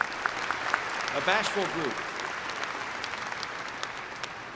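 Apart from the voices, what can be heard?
applause for university staff at commencement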